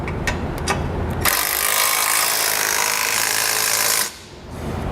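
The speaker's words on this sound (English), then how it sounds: "now we're going to tighten all of our bolts in the sequence per the instructions" A power tool, likely an impact wrench, runs in one loud continuous burst of about three seconds while tightening base plate bolts on a 2018 Jeep Cherokee, after a few light clicks.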